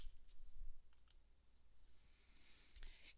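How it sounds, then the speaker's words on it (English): A handful of faint, quiet clicks on a computer keyboard's right arrow key, spaced irregularly over a soft background hiss, with no talk. "I can't hold it down at this point, but I can just keep clicking, keep entering that right arrow key."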